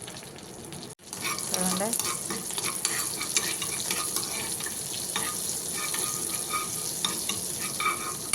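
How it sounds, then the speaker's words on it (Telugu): Cumin seeds crackle and splutter in hot butter in a kitchen pan: a continuous close sizzle with scattered pops that starts after a short lull, with a voice speaking briefly. "చూడండి, సీరు కదా చిట్టుపట్లు ఆడుతున్నాయి."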